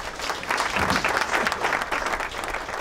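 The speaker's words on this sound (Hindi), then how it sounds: "उनके लिए भी तालियां बजा दीजिए" An audience at a literacy campaign meeting in Basar applauds, a steady, moderately loud burst of many hands clapping that holds evenly for a few seconds.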